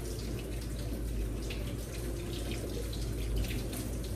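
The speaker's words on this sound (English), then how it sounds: "We're going to pour that in there." Chicken broth pours steadily into a pan, a continuous splashing gush with no break, close by.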